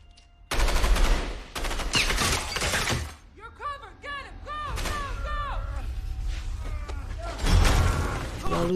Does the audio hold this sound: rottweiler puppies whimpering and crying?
no